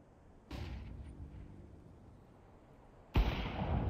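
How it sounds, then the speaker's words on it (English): Flashbang grenade going off in Counter-Strike 2, a sharp loud burst with a ringing decay, followed by a second abrupt blast near the end. "Flashbang."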